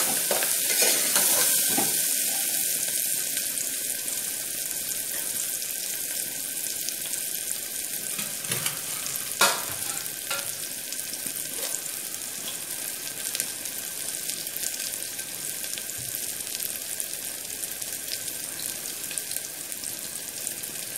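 Onions, green chillies and curry leaves fry in a pan with a continuous close sizzle, punctuated by a few sharp clinks and stirring scrapes, with no voices.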